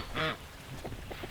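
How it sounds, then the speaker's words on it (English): A couple of ducks on a homestead by a small creek quack: one loud, close call followed by a few softer, fainter quacks. "Couple of ducks."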